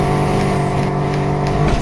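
A rival Porsche racing car in Need for Speed burning its nitrous, a loud sustained engine whine with a steady pitch and a brief surge near the end, no voices.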